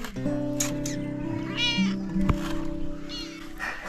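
A cat meows repeatedly up close in a village in the Konkan, drawn-out tonal cries over a background hum, with a sharp knock partway through.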